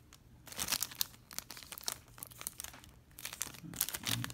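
A trading card pack wrapper is torn open close up, giving a run of crinkling and ripping foil sounds in quick irregular bursts with a short pause in the middle, and no one speaks.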